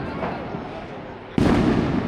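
Fireworks going off at the Misterio de Elche religious festival in Spain, a distant crackling rumble that suddenly jumps to a loud burst of dense popping and booming in the second half.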